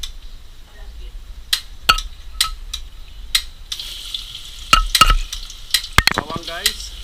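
Garlic sizzles while being sautéed for a fiesta dish, a low frying hiss broken by sharp clinks and scrapes of a utensil against the pan, with a voice briefly heard.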